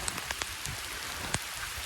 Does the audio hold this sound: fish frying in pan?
no